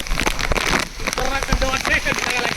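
Heavy rain pattering hard on surfaces at a cool hill spot in Lanja, dense and continuous, with people talking over the downpour.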